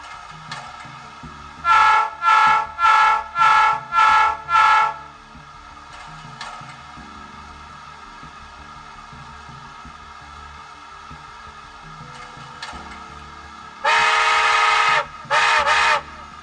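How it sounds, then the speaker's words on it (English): A steam locomotive whistle from a SoundTraxx model railroad sound decoder sounds in two sets of sharp, loud blasts, about five short toots followed later by one longer blast and a brief one, over a quiet background hum. "You have 63 whistles to choose from."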